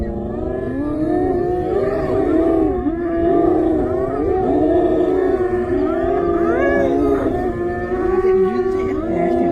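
Hyenas calling around a lion in the Maasai Mara, many rising and falling whooping cries overlapping continuously and loudly, with no talk over them.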